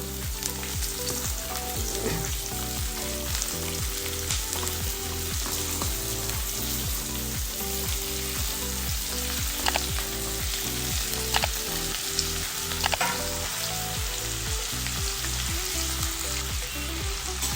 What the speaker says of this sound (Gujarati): અને હવે એની અંદર આપણે ટીંડોળા એડ કરી દઈશું.